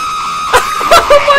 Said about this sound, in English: Is that PewDiePie screaming?